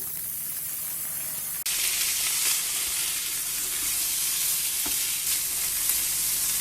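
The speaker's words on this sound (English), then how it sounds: "Cook till the onions become soft. The onions are wilted slightly. I'll add in the corn." Corn kernels being added to softened onions in a hot pan, with a loud, steady sizzle that jumps up sharply and then holds, broken by occasional scrapes of stirring.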